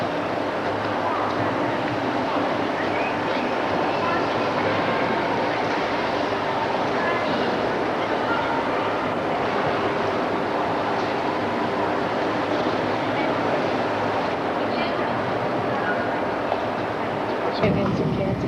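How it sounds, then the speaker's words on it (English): Echoing ambience in Brighton's glass-roofed train station, with a steady low rumble of trains and a wash of background noise, with people talking nearby. "We're in train station Brighton, waiting for the train back to Victoria Station."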